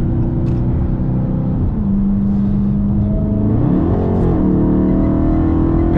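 A Dodge Charger Hellcat fitted with a stage kit accelerates hard with a loud, steady engine roar. The pitch climbs, then drops twice as the transmission shifts gears, with no talking over it.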